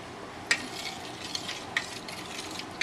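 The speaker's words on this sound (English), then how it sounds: "I'll give it a couple stirs with a spoon" A spoon clinks and stirs through freshly strained chicken broth set in an ice bath, with a few sharp, close taps against the container spaced over a soft, steady swishing.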